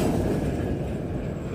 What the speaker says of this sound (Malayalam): 3 മിനിറ്റ് ആയിട്ട് ഈ ട്രെയിൻ പോകുന്നു